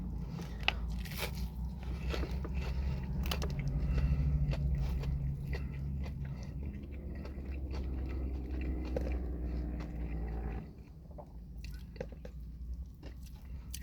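Close crunching and chewing of crispy fried fish, irregular crackly bites and squishy mastication with no talking, quieter near the end.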